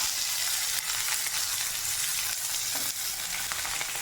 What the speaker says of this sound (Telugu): ఆనియన్స్ కన్నా బాగా వేగిపోయాయి